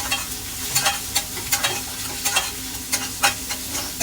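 Eggs and onion fry in a pan, a loud close sizzle broken by a rhythmic series of scraping stirs, about a dozen quick strokes over a few seconds.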